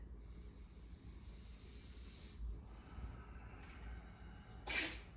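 A single short, sharp sneeze bursts out near the end over quiet low background rumble, with a fainter breathy sound just before it.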